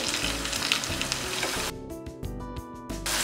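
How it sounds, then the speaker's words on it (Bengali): Whole spices including bay leaf, cinnamon, cardamom and cloves frying in hot oil for a Bengali chicken curry, producing a loud close sizzle that suddenly drops to intermittent crackles and pops. "এর সাথে আমি দিয়ে দিচ্ছি দুই টুকরো দারুচিনি এলাচ ও লবঙ্গ"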